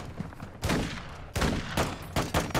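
Weapon fire in the Call of Duty DMZ video game, loud close bursts of rapid gunshots in three or four volleys separated by short gaps.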